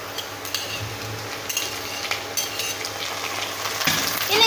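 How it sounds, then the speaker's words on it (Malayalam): Onions and cooked bitter gourd fry in a pan for a Kerala curry, with a steady sizzle, scraping stirs and occasional clinks of a utensil against the metal, louder toward the end, no talk. "നമുക്കിനി ഇതിലേക്ക് വേവിച്ച് വെച്ചിരിക്കുന്ന നമ്മുടെ പാവയ്ക്ക ഇട്ട് കൊടുക്കാം"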